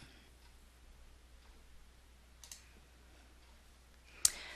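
Computer mouse clicks while downloading and opening a file, a few faint isolated clicks over quiet room hiss with one sharper, louder click near the end.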